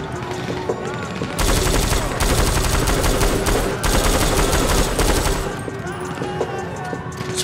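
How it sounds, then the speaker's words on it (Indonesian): Heavy automatic gunfire from a GTA 5 zombie survival game rattles loud and dense in sustained bursts with short lulls, close and continuous through most of the stretch. "Tembakan di mana ini?"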